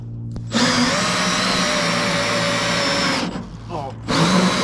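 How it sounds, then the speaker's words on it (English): A cordless drill whirs steadily for about three seconds, stops briefly, then starts up again, loud and close. "put this baby on drill mode"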